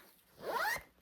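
A plastic zip-around closure on a thrifted bag is pulled in one rising, rasping stroke lasting about half a second, up close and alone.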